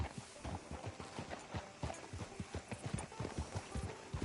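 Horse hooves clip-clop at a steady walking rhythm on a hard surface, close and continuous, with no talking, in the video game Red Dead Redemption.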